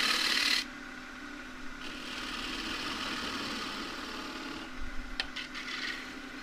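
Sandpaper rasps against a small green casuarina bowl spinning on a lathe, a steady close rubbing hiss over the machine's hum after a brief louder opening.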